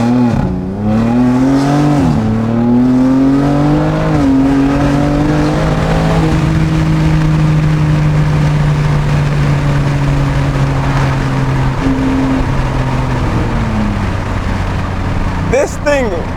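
A BMW G80 M3 accelerates hard on the road, its loud engine note climbing through the gears with rising and falling tones heard from inside the car, while someone talks over it.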